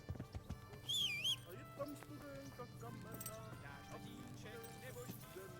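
A horse in the medieval role-playing game Kingdom Come: Deliverance whinnies briefly and clops its hooves, heard near and fairly faint under ambient game sounds and light background chirps.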